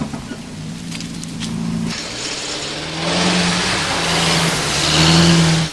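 An old jalopy of a car drives up in a Masha and the Bear cartoon, its engine humming and rising in pitch as it gets nearer and louder, with no voices.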